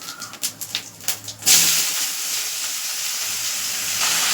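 Onion and spices frying in a pan, a few scraping stirs followed by a loud, steady sizzling hiss that fills the rest close up.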